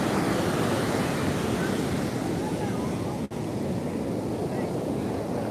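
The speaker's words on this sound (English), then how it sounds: "Look at the waves coming in." Ocean surf rolls onto Copacabana beach in a loud, continuous roar heavily mixed with wind buffeting the microphone, with a brief dropout partway through.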